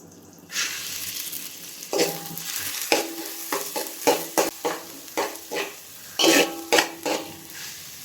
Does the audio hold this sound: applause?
no